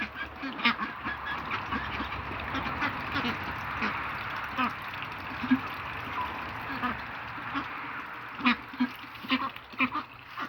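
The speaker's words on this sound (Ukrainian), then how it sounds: "Не було води в качок, налили, зараз вони нап'ються" Several ducks quack repeatedly in short, uneven bursts against a steady outdoor background hum in the evening, moderately close, with no talking.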